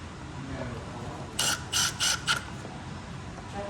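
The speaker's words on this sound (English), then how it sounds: "put the 4 screws back in. Don't wanna over tighten it, because it is just plastic threads." Four screws are driven by hand into plastic threads on a backpack frame, heard as a quick run of four close ratcheting clicks over a steady background hiss.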